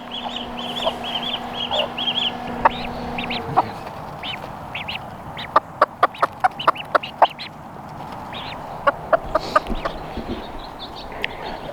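Young ducks being raised at home quack and squawk in loud, sharp bursts, some in rapid clusters, against a steady background of softer peeping and clucking fowl close by.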